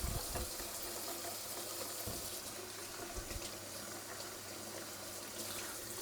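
Hot water running from a home kitchen tap, a steady hissing gush splashing into a sink, fairly quiet and continuous for several seconds with a few clunks and no talk.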